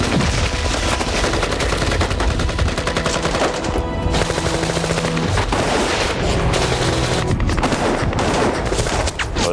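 Dense automatic gunfire and rapid single shots fill a gunfight with the Taliban near Kandahar, with loud overlapping bursts and cracks in continuous fusillade for nearly ten seconds.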